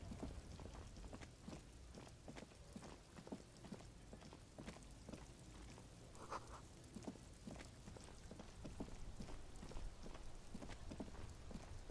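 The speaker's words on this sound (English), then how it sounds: "Droplets of rain fall on the white on blue police livery of the motor carriage." Rain patters steadily on a white-and-blue police motor carriage in the video game Disco Elysium, a soft, even wash of droplets with scattered sharper ticks, quiet and with no voices.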